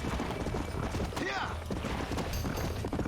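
Stallion hooves galloping at speed in the Red Dead Redemption video game, a rapid steady clatter under dense game noise with a brief whinny partway through.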